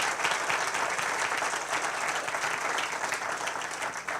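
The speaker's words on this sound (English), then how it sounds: "So let's all give them a round of applause." Sustained audience applause at an opening session of a city leaders summit, steady dense clapping from a large crowd, fairly loud and continuous throughout with no voices over it.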